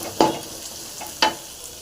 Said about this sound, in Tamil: இடித்த பூண்டை போட்டு நல்லா ஃப்ரை பண்ணிக்கலாம்